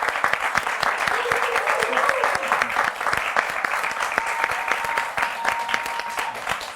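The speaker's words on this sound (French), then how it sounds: "Je pense qu'on peut applaudir ce film magnifique." An audience claps after a dance and nature film screening, a dense burst of applause with crisp individual claps close by, steady and lively throughout with a few murmured voices underneath.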